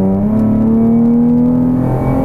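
A Nissan 370Z sports car engine gives a loud, steady drone with a low throbbing hum, close and continuous, pitch rising slightly before settling.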